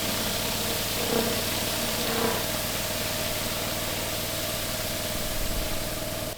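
A rotary flat surface cleaner with two spinning jets runs over a resin-bound driveway, giving a steady loud continuous roar of pressure-washer water and engine drone with little variation.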